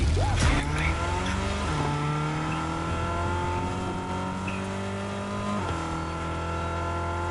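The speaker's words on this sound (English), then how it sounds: "Let's take the car. Let's take this car. This one's faster." Fast car in a video game, engine whining as it accelerates through rising gear sweeps, with a brief tire squeal near the start and a sustained loud drone throughout.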